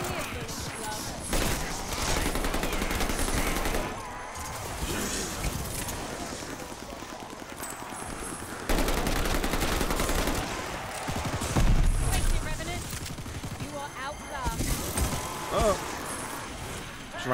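Gunshots in Call of Duty: Vanguard Zombies, bursts of rapid firing coming in several loud clusters with pauses between, with a voice talking over parts of it.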